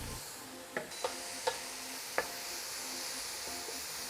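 Champignon mushrooms stir-frying in a pan with pepper, salt and dried thyme give a quiet, steady sizzle, broken by a few sharp utensil clicks in the first half.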